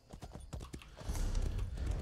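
Horse hooves clip-clopping in the fantasy game Elder Scrolls Online, several quick close hoofbeats followed by a louder rumbling, galloping rush of movement, with no speech over it.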